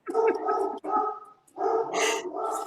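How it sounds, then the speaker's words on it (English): Dog barks and yelps close by, several rough calls in quick succession with a brief gap midway, loud and alone without talk. "Your dog wanted to chime in."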